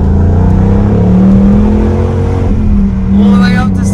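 A Ford Mustang Bullitt's V8 engine revs up hard toward 7,000 RPM from inside the cabin, a steady loud rising roar with a low rumble, with people talking over it.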